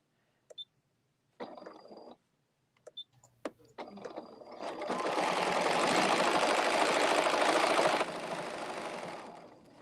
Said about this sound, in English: hit the stitch regulator on, and go another stitch